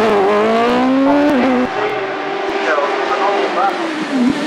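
A carbon tub OMS Hayabusa hillclimb race car roars past at Shelsley Walsh, its high-revving engine loud and close, pitch dropping through gear changes as it passes, while a commentator talks over the run.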